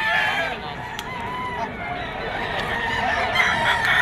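A rooster crows amid clucking fowl at a busy Bocaue, Bulacan poultry and pet market, with gamecock stags on sale; the crowing is moderately near over a constant crowd murmur and background voices.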